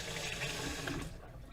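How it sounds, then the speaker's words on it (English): Steady running tap water splashes over hands being rinsed in a kitchen sink, continuous and close, then tapering off at the end. "now I'm going to rinse my hands off a little bit"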